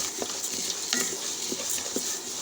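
Amla (Indian gooseberry) masala frying in a pan while a spoon stirs it, giving a steady close sizzle with light scraping strokes and soft clinks at an uneven rhythm.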